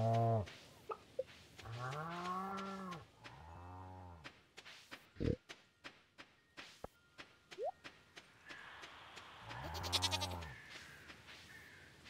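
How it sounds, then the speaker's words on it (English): A goat bleats loudly several times, with long wavering cries spread across the stretch and scattered clicks and knocks between them. "I heard the goat"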